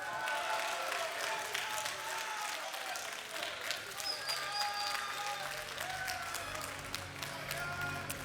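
Audience applause and cheering at a DreamHack tournament stage, a sustained roar of clapping with whoops and shouts from the crowd.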